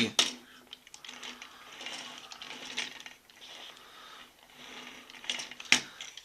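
A Bakuryu Dimenokodon toy's wheel mechanism is turned by hand, giving a series of light plastic clicks and rattles in uneven bursts, close up, with one sharp click near the end.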